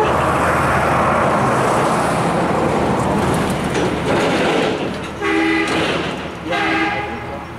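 A Norfolk Southern intermodal freight train led by an SD70ACe locomotive rumbles past through Petersburg, loud and close, with a continuous roar of wheels and wagons that eases slightly toward the end, alongside rhythmic clacking.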